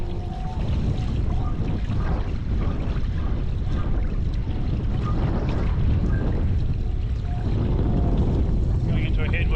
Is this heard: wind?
yes